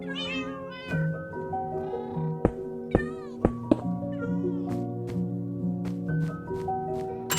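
Minecraft cats meow repeatedly in a blocky video game world, several overlapping high, wavering mews close up, punctuated by a few sharp game clicks and thunks.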